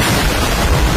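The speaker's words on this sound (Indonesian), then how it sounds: "Meledak." A dense, loud explosion sound effect roars as one continuous rumbling blast that fills the whole second without a break.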